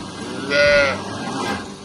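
Cattle brought from Punjab in a cattle shed, with one cow letting out a single loud, drawn-out moo partway through over quiet background noise.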